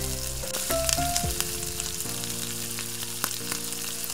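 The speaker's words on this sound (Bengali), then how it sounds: "এই যে এবার আমি আলুগুলো দিয়ে দিলাম, দিয়ে এগুলো একটু ভাজবো ভালো করে। আমি ভাজছি" Potatoes fry in a pan for sabudana khichdi, giving a soft, steady sizzle with occasional stirring clicks under sustained tonal background sounds.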